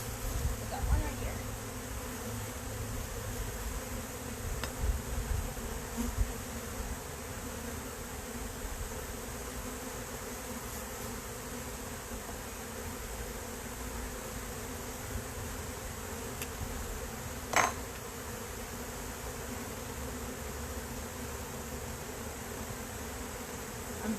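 Honey bees buzz steadily around a hive in a beekeeper's yard, a continuous low insect drone with occasional faint handling knocks and no talk.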